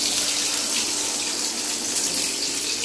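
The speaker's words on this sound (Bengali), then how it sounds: "দেখুন এবারে ডিম ভাজছে" An egg fries in hot oil in a pan, giving a loud, continuous hissing sizzle with no pauses, close up and alone.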